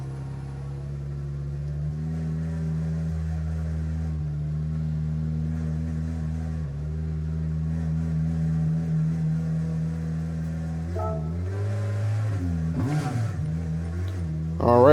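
A 2016 Nissan GT-R NISMO GT500 race car in Gran Turismo 7 starts up and settles into a deep, steady idle rumble, with a short burst of revving near the end.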